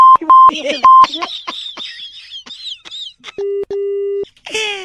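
A few steady electronic beeps, then a pair of longer low tones of a phone call disconnecting, with a brief burst of voice at the end.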